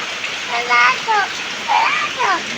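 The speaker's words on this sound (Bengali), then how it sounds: "এক নাগারে এত বৃষ্টি নামতেছে" Heavy, continuous rain falls in a steady broadband hiss, with a voice and other talk rising over it in short bursts.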